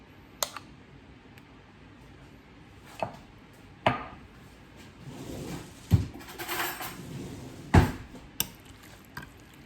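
Ingredients go into a pan with butter and ranch dressing while a chicken dish cooks in a home kitchen, giving a handful of scattered sharp clicks and clatters against a quiet background with no talk.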